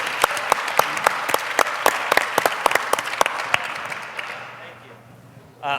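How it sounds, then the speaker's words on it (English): Applause from a panel-discussion audience, with sharp individual claps standing out over a dense wash of clapping that fades away toward the end. "Let's give them all a round of applause."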